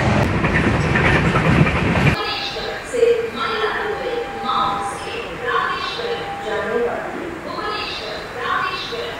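Aboard the moving Bhubaneswar–Rameswaram weekly express passenger train, walking from the sleeper into the general coach: steady rumbling and rhythmic clickety-clack of the wheels fill the clip, with voices talking throughout and a louder rushing burst at the start.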